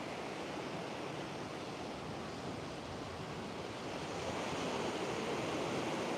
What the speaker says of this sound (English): you see the wind coming from the northwest, putting the waves in at this angle